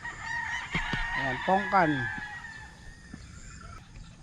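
Gamefowl stag rooster at a game farm crows loudly up close, a rising and falling call, mixed with short clucks while someone talks over it.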